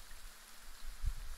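Steady rain ambience during a tabletop role-playing session, a soft continuous wash with a brief low thump near the end, no voices.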